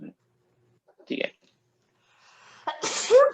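A sneeze bursts out in a lecture room during a math class, a short sharp explosive blast near the end following a brief inhaled catch and a faint earlier snort, with quiet room tone and a brief voice earlier.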